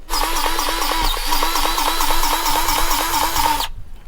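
A powered grease gun lubricates pig-feed-making machinery on a small livestock farm: a loud, close, continuous motor whir with a fast rhythmic pulsing that runs for several seconds, then cuts off abruptly.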